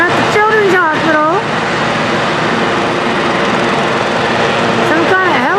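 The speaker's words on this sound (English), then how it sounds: "Some kind of helicopter flew in." A helicopter flying in at a children's hospital drones loudly and continuously overhead, a thick mechanical roar, while people talk briefly near the beginning and end.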